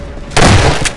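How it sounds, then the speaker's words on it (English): A heavy explosion from artillery shelling in the Half-Life 2 level Anticitizen One, a sudden loud booming blast that swells and rumbles for a moment, very close. "They're shelling the hell out of us."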